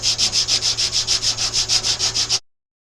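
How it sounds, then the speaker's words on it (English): Hand sanding on a 1986 Chevy K20 truck, a rapid even rhythm of about fourteen scraping strokes, loud and close, ending abruptly in silence. "we're just gonna sit here and sand this down"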